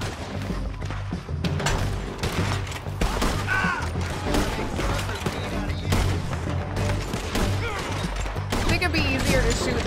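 Gunfire in Red Dead Redemption 2 during a bounty fight, repeated loud shots and thuds in irregular clusters, mixed with someone talking over the action.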